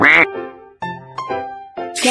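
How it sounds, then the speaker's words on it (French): A cartoon duck quacks in a children's Babybus game: a few short nasal quacks, loud and close, with bright chiming game tones between them and no talking. "Canard."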